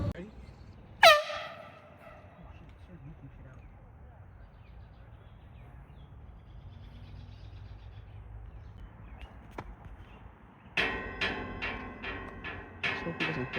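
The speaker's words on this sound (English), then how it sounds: "We got an air horn." One sharp, loud air horn blast rings out at a golf course, then quiet outdoor ambience with voices; near the end, a burst of fainter, pulsing horn tones follows.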